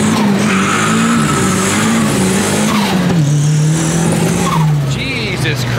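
A rear-wheel-drive Honda Civic engine roaring at full load on a dyno, a loud, close, sustained drone whose pitch wavers and sags unevenly as the engine breaks up under fuel slosh.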